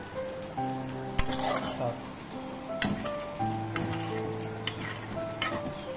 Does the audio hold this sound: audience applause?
no